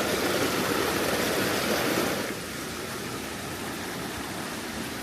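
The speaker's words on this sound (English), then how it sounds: "I'm going to cross the stream" A stream flows near a waterfall at Swatara State Park, Pennsylvania, a steady close rush of water that is louder at first and then settles to a softer constant flow.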